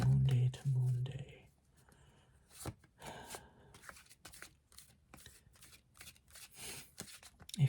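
A deck of cards is shuffled in repeated soft riffling bursts, fairly close, with quiet whispery talk around it.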